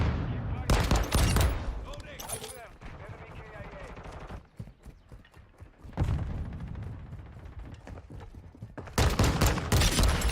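Pistol gunfire in Call of Duty Modern Warfare 2, loud bursts of rapid shots in a firefight, heavy at the start and again near the end, with quieter gameplay noise and a voice talking between them.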